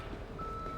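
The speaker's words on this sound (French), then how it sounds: "La dépanneuse est déjà là" A tow truck in the Police Simulator video game sounds its reversing beeper, a single thin steady tone that is faint and set against low engine rumble.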